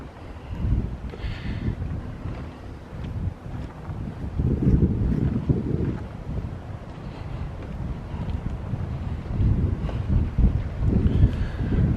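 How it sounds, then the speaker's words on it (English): Strong wind at Cedar Key buffets the microphone in constant gusts, a low rumbling roar that swells and eases throughout. "It's starting to get windy."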